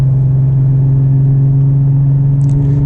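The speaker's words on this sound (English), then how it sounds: "So listen to the mechanical noises here, right? You hear all the gear whine, transmission noises" A 2002 Porsche 996 GT2 droning steadily with a loud, constant mechanical hum of gear whine and transmission noise, close and uninterrupted, with a faint brief chirp near the end.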